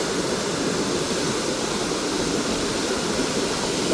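Floodwater rushes and roars loudly and continuously through a dam sluice on a river, a dense, steady gush with no pauses.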